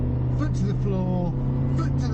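A Suzuki Jimny's engine is held at full throttle as it climbs to around 4,500 rpm, a steady, continuous drone with a voice talking over it throughout.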